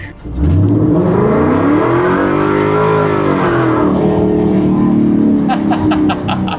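A car accelerates hard in a short spurt through traffic, its engine roaring close and loud with pitch climbing through a gear and then easing off, ending with a faint rapid ticking.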